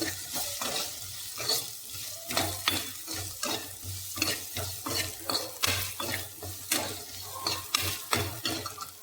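Mixed vegetables sautéing in oil in a pan for a children's khichdi, with a soft sizzle and repeated scraping of a spoon stirring, close and fairly quiet, no voices.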